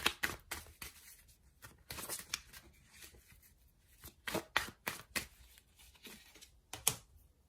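Tarot cards are shuffled and drawn by hand, giving quiet, close riffles, flicks and soft slaps in irregular bursts, with no talking.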